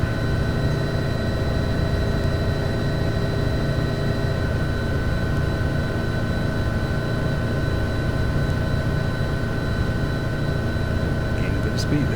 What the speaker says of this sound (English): let's just put this helicopter down gently.